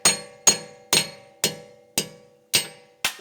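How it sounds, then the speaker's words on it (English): A brass hammer knocks a wheel lug stud out of a disc brake hub, striking seven sharp metallic blows at an even, unhurried pace, close and loud with brief ringing after each hit. "because we got the brass hammer, we'll just go ahead and use the brass hammer"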